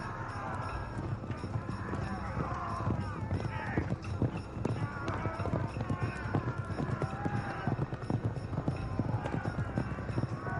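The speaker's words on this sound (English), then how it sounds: "The signal for attack is sounded, and the chariots charge." Many chariot horses pound in a rapid, continuous gallop during a battle charge, thick and rumbling like a crowd of horses charging, with occasional whinnies mixed in.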